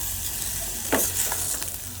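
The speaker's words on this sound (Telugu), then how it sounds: "ఎగ్ని వేసుకుని బాగా పైకి కిందకి తిప్పుకోవాలి." Egg fried rice with chopped fried egg being stirred and tossed in a hot pan, a constant sizzle with one brief scrape and clatter of the spatula midway, close up and without speech.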